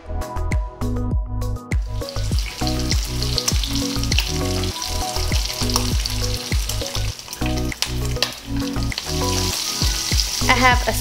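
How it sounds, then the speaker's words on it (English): Strips of bacon fry in a hot pan on a stovetop, a steady crackling sizzle that runs without a break under a loud, rhythmic pulsing pattern, with no talking. "I have a second batch of bacon frying over here."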